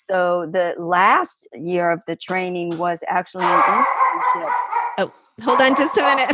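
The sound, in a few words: dog barking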